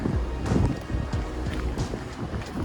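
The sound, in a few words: wind blowing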